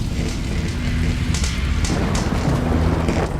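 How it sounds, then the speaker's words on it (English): Steady rain in the video game Interrogator Remastered, a continuous broadband wash with low rumbling underneath, heard on its own without speech at a fairly loud, even level throughout. "Bastard rain."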